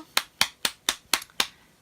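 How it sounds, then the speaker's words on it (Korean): Six sharp, evenly spaced hand claps ring out close and crisp, each one a single dry smack with a short decay, followed by a brief quiet moment. "박수!"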